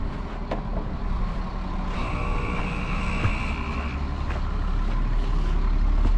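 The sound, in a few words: Caterpillar 3208 diesel engine cranking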